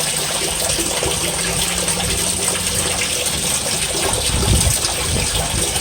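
Water pours steadily from a 6 inch drainage pipe through a grate the morning after heavy rain, a constant broadband rushing gush with no pauses, loud and close.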